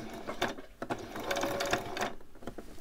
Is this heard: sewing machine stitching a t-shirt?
yes